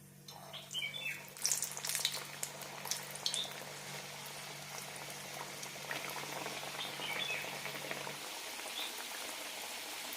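Veg samosas go into hot oil for deep frying, setting off a dense, bubbling sizzle that is loudest in the first few seconds and then settles into a steady, fainter crackle close by.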